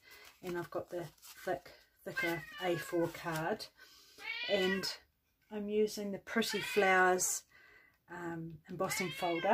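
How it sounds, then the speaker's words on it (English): A pet cat meows repeatedly near the microphone, loud drawn-out cries interleaved with someone speaking calmly in a craft room. "Sorry, that's my cat."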